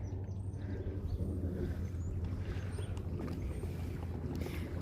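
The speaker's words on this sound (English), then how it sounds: "I feel like I can hear like boats." Steady low rumble of boats moving on open water near a small town on the way toward Baltimore, a continuous engine-like drone with light wind noise and no talking.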